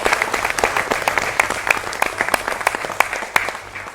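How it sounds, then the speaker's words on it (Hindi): A studio audience at a Hindi news debate show breaks into loud, sustained applause, dense clapping filling the room throughout. "एक बार जोरदार तालियों से आप सभी अपना स्वागत कीजिए"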